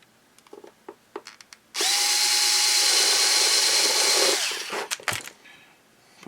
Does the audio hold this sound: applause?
no